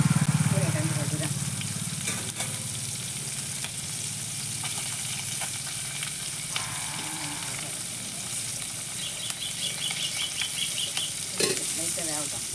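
Fish, murrel and kuravai, frying in oil with greens being stirred in, a continuous sizzle with occasional scraping stirs and clinks, and voices talking faintly over the cooking.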